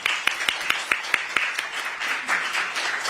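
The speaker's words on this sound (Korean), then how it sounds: "박수로 맞아 주시겠습니다" An audience welcomes a speaker at a Democratic Party forum with a handful of sharp, distinct claps that quickly thicken into quieter, sustained applause.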